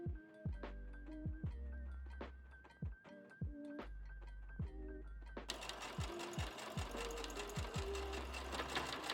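A sewing machine quilts a fabric banner in short stitching bursts with brief stops, then runs in a longer steady rhythmic whir, close and clear.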